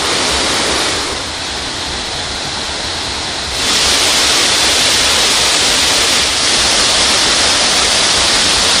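Kumbakkarai waterfall running with increased flow after heavy rain, a continuous loud rushing roar that holds steady and then swells stronger partway through, with no voices.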